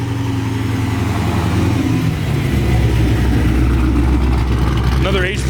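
A right-hand-drive Mark IV Toyota Supra rolls out of a car meet, its engine note rumbling loud and close under a steady wash of crowd noise and people talking.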